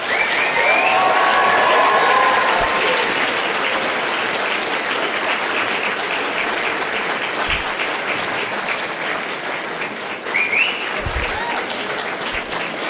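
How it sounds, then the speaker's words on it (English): A large audience at an Aston University graduation ceremony applauds in a sustained roar of clapping, with scattered cheers and whoops rising above it, loud and continuous throughout. "Please give them a huge and rousing round of applause."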